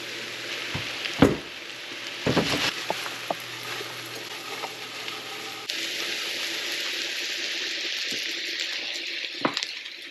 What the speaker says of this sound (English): we're gonna put the mushrooms in now. Cook these really nice and cook that moisture out of them